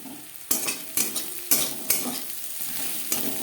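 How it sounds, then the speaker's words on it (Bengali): Banana stem (thor) is stirred and tossed in a frying pan, with a steady close sizzle broken by about six sharp spatula scrapes and clanks at a quick, uneven rhythm. "আবারও বেশ ভালো করে মেখে নেব"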